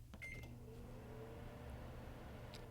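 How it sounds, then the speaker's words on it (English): A microwave oven hums steadily and quietly, a constant low drone after a few faint clicks and beeps at the start. "Place the bowl in the microwave and microwave for 8 minutes."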